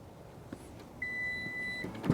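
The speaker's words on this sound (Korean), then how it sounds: "알람과 함께 열리고요" Lexus RX 450h power trunk alert: a single steady electronic beep lasting under a second, clear and close over quiet background, followed by a soft thump.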